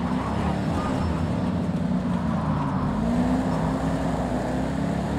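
Race car in Project Cars 2 at Silverstone, its engine droning steadily and loud throughout with a sustained low roar under hard acceleration, no pauses.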